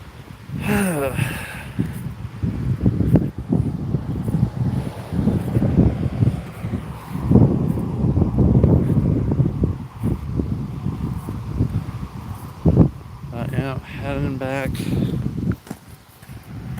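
Gusty wind buffets the microphone outdoors during a Sunday walk, a steady low roar that rises and falls throughout, with faint voice-like tones surfacing briefly near the start and end.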